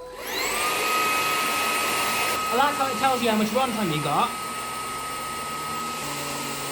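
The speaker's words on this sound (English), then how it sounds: "let's try out the Hoover on carpets" A Hoover HFX cordless vacuum cleaner runs on carpet with a constant, close, high-pitched motor whine, while a person speaks briefly over it partway through.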